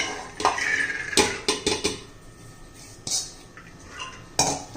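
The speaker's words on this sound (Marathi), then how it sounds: "आता हे काबुली आपण कुकरमध्ये घालून घेऊया" Chickpeas tipped into a metal pressure cooker make a loud burst of clattering and clinking, followed by a few sharper metallic knocks and scrapes of utensils, with quieter gaps between.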